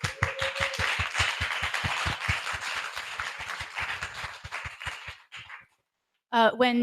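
Applause from a crowd at a live book event, with dense close claps running steadily for about five seconds before fading out, then a voice begins speaking after a short silence.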